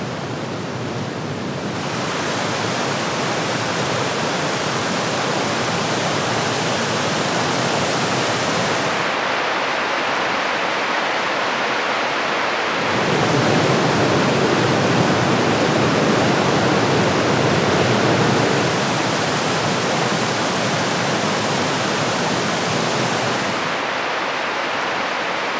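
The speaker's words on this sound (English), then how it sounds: "Even more sublime are the numerous small waterfalls." Numerous small waterfalls spill down a moss-covered rock face in the Wimbachklamm gorge, giving a dense, steady rush of falling water. The roar stays continuous throughout, swelling louder for a stretch in the middle, with no voices.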